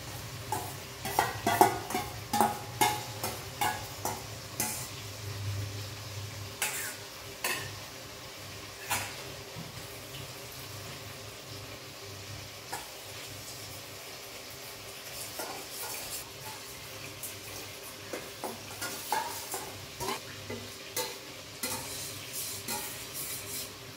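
Sauce-marinated chicken for chowmein stir-fried in a pan, with rhythmic spatula scrapes and clinks against metal over a low sizzle, repeating throughout at close range.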